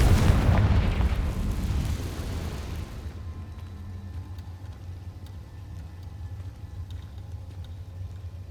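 A Confringo spell explosion in Hogwarts Legacy bursts with a loud, deep boom at the start, then rumbles and fades over a few seconds into a low lingering hum.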